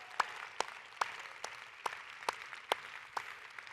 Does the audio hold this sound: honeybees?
no